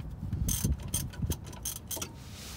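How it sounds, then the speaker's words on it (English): A 14mm socket wrench works on rear brake caliper bracket bolts, giving close, uneven metallic ratchet clicks and clanks in short bursts. "You need a 14mm socket to remove the caliper bracket bolts."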